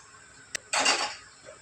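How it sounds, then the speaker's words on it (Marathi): A pressure cooker set up on a home kitchen stove, heard as a sharp metallic click followed by a brief clatter of metal cookware, close and fairly quiet. "चला, आता इकडे कुकर लावून घेते"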